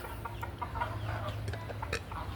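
Chickens on a farm clucking in short scattered calls over a steady low hum, fairly close and continuous.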